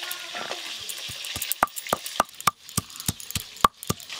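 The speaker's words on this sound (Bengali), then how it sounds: "হ্যাঁ, ঝোলের মাছ তো একটু হালকা করে ভাজতে হয়।" Rohu fish pieces fry lightly in a pan for a village-style curry with potatoes, giving a steady low sizzle broken by a run of sharp clicks and taps from the spatula, with no talk.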